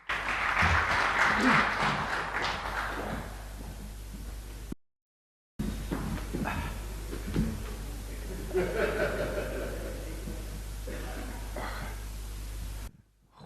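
A church congregation gives a warm round of applause for a welcomed guest speaker, clapping fading with some chuckles and murmured voices, a brief dropout, then scattered quieter clapping and soft chatter over a low hum.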